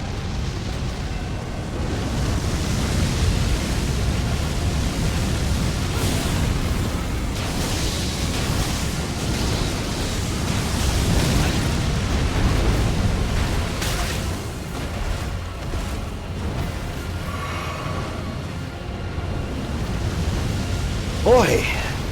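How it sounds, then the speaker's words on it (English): A boss in Elden Ring Shadow of the Erdtree keeps up fire attacks, producing a constant loud, roaring rush of flame and blast noise that swells and fades, with talk over it. "Boy, the fire just really doesn't slow down with this guy."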